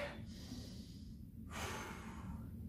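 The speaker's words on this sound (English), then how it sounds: "Big deep breath in." Two long airy breaths, the second a deeper inhale, drawn close to the microphone during a junior infants balance and coordination exercise class, over steady low background hum.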